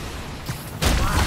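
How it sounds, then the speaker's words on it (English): Gunfire in the PS5 game Spider-Man Miles Morales during a blizzard: a quiet, muffled stretch gives way abruptly to a loud, dense burst of rapid shots that carries on to the end. "I need to head toward the gunfire."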